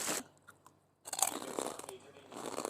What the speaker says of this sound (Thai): กรอบอะแคบหมูแบบกรอบๆอะ